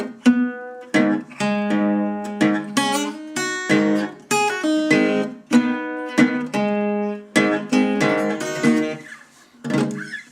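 Blues guitar lick, played slowly: a close series of plucked notes and short phrases, each ringing and decaying before the next, with no talking.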